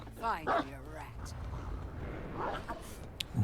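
The Houndmaster's dog in the video game Dead by Daylight gives a short bark or yip near the start, followed by faint scuffling and thin yelps under a murmuring voice and background game noise.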